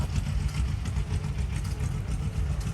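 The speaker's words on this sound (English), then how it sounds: "Here we got a little John Deere kids tractor" A small John Deere kids tractor idles at a farm heritage show, giving off a continuous low engine rumble that holds steady and fairly loud from start to finish.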